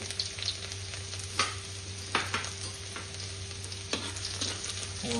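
Chopped garlic frying in a generous amount of oil until reddish, a constant low sizzle with a few scattered scraping stirs, fairly quiet and without speech.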